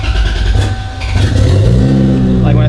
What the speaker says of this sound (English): when I get in the car and I start it up